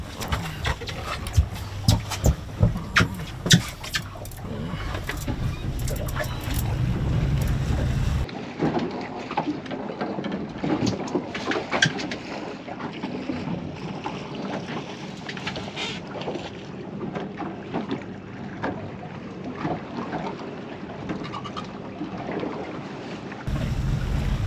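A fishing boat runs across open water, its engine and hull slapping making a loud, continuous rush, with heavy wind buffeting the microphone and a few sharp knocks early on.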